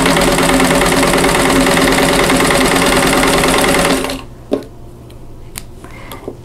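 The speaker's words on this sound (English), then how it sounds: "Swing this around and sew on the opposite side." A sewing machine stitching a quilt block runs loud and close in a steady rapid whir for about four seconds, then stops, followed by a few faint clicks and handling sounds.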